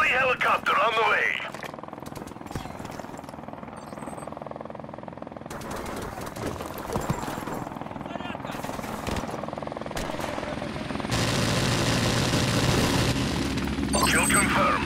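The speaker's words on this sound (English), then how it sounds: "Friendly helicopter on the way." Helicopter in the video game Call of Duty: Modern Warfare Remastered, a rotor whir mixed into busy game audio with bursts of gunfire, radio chatter and voices throughout.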